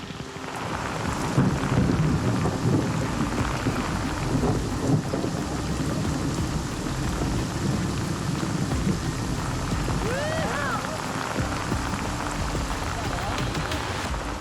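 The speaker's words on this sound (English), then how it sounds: "We wait for the rain to stop so Andre can finish setting up his rig." Steady rain falls in a thunderstorm over a river, with a continuous hiss and low rumbling thunder, while voices are faintly heard in the background.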